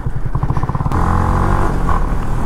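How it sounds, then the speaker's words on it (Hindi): Motorcycle engine running loud and close while being ridden at full power, with a pulsing low idle that jumps into a steady, throaty roar with some clattering mechanical noise. "साउंड सुनो गाइस बाइक का"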